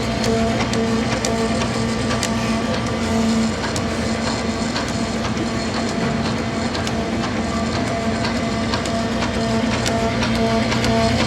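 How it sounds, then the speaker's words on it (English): A printing press runs a door hanger job with a loud, steady mechanical roar, a constant hum and rapid repetitive clatter, and sheets are pulled through it, continuous throughout with no talk. "you can kind of just watch the machine run while we pull a couple of sheets through"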